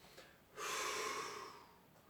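One deep, forceful breath during a strengthening and posture exercise, heard as a single long rushing exhale of about a second, close and clear against a quiet room.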